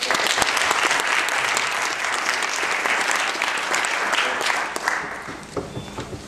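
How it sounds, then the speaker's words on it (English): Sustained applause from a congregation at a Martin Luther King service, dense steady clapping filling the space, thinning out and fading toward the end. "Let's give them a round of applause."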